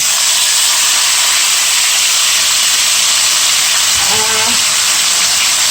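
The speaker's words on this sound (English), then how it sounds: "I'm placing the beef in the pot now" Seasoned pot-roast beef lowered into a hot pot raises a loud, steady steam hiss and sizzle, with a brief stir of lower sounds as the meat settles near the end.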